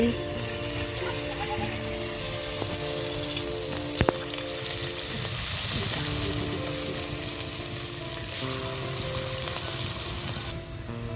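Lau pitha, small round bottle gourd fritters, sizzle in hot oil in a home kitchen, a continuous soft crackling hiss with a sharp utensil tap near the middle, no talking.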